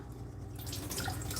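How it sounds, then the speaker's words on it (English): Portobello mushrooms being rinsed under water from a tap in a kitchen sink, a steady close splashing and dripping that grows a little louder about halfway through, with no one talking. "So we wash these off."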